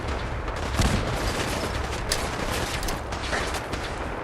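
Gunfire in the video game Fallout 4 with the Sim Settlements 2 mod: a dense, ongoing volley of shots and sharp bangs over rumbling battle noise, loud and continuous.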